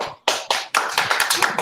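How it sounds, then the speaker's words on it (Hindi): Applause from a gathered audience at a children's digital fair event in Rajasthan, heard as a few sharp bursts of hand claps that quickly swell into steady, close clapping. "साथियों, सभी पीयूष के लिए तालियां"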